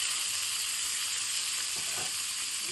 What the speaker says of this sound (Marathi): आता ह्याच्यात ते रताळ्याचे पीस घालते